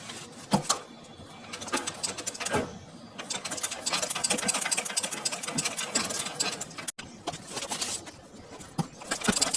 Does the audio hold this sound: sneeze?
no